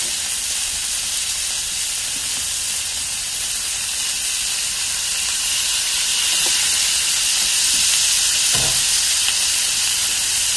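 Onions in oil sizzling on an Arteflame grill, a steady, bright, close hiss that continues throughout with faint small pops.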